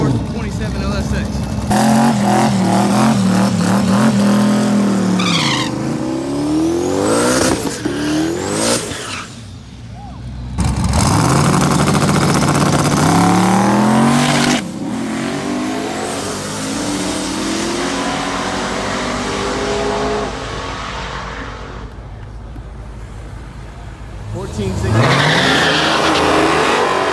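Drag race cars launch and accelerate down the strip, one a Ford with an LSX engine, engines roaring loud and close in repeated revving bursts with tire noise, while people talk over the din.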